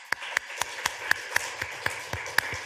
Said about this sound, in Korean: 하나님에게 영광의 박수를 돌립시다.